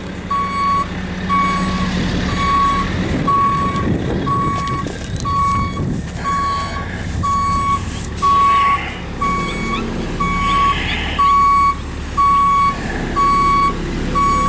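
A big six-axle dump truck reverses at a pole barn building site, its backup alarm sounding a steady, evenly spaced run of loud beeps over a low diesel engine rumble.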